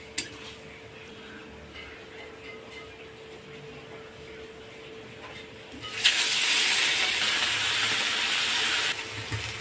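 Hilsa fish dropped into hot oil in a wok, a sudden loud sizzling hiss that bursts in and holds steady for a few seconds before easing, after a quieter kitchen background.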